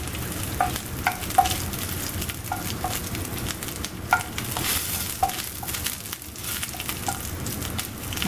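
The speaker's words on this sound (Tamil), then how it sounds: "அதில் வந்து தேங்காயை பொரிச்செடுக்கணும்." Grated coconut fries in ghee for paruppu pradhaman, with a steady close sizzle and repeated scraping and stirring strokes of a spoon in the pan, no talk.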